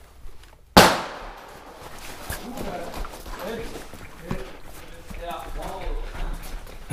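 A WW2 grenade explodes in a combat game with one sudden, sharp bang, followed by a rumbling tail and ongoing game noise while someone talks.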